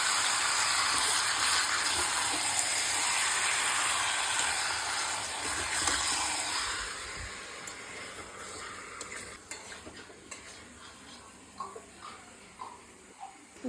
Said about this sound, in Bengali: এই যে এবার এটাকে নাড়া হবে, কষানো হবে, সুন্দর করে কষানো হবে।